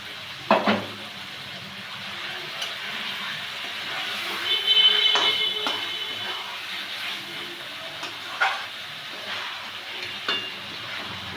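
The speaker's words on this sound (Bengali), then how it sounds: "এবার আমি এই মাখানো মাছটাকে দিয়ে দেবো, দিয়ে আর একটু কষাবো।" Marinated boal fish fries and is stirred in a pan with a steady low sizzle and occasional scraping clatters of the spoon, close and moderate, and no talk over it.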